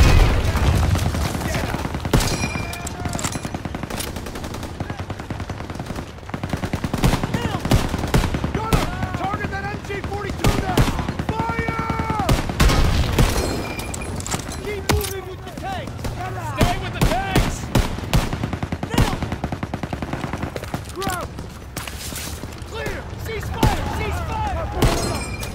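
Machine gun fire in a WWII video game: dense, sustained bursts of automatic gunfire with scattered shots, shattering and booms, loud and continuous, with battlefield voices mixed in.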